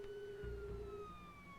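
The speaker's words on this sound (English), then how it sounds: "As the sirens grew louder" A police siren wails as a single descending tone with faint rumble beneath, quiet and distant, steady over its short span rather than clearly rising.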